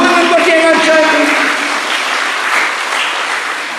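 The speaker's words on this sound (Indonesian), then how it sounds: "Tepuk tangan buat dia yang ajaib." A church congregation breaks into loud, dense applause during a sermon, a sustained wash of many hands clapping close and full, slowly easing off toward the end.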